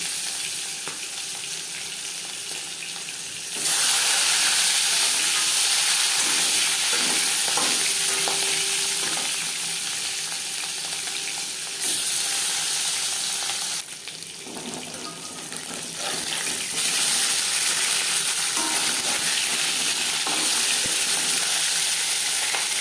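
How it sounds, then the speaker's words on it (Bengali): Katla fish hitting hot refined oil brings a loud burst of sizzling that stays strong and continuous, dipping slightly once before surging again. "মাছ ভাজবার জন্য তিন চার চামচ রিফাইন অয়েল গরম করে নিয়েছি এবার দিয়ে দেবো নৈবেদ্য রাখা মাছ"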